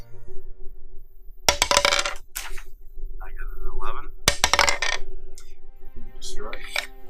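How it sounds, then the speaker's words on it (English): Dice rolled during a tabletop wargame match, two bursts of bright clattering rattles near the table, with quieter talk between and after the rolls. "So we both roll dice."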